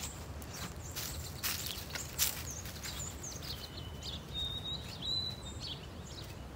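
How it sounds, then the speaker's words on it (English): Birds chirp and whistle at a distance outdoors, scattered calls over soft rustling and footsteps. "The birds are awake."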